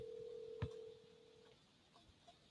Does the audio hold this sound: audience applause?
no